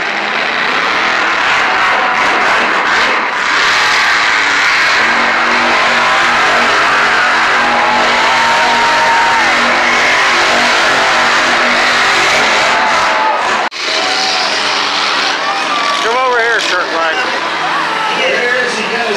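Monster truck engines at a live show, a loud sustained roar with rising and falling revs, crowd noise mixed in, and a brief cut near the end before the engine din resumes with sharper pitch sweeps.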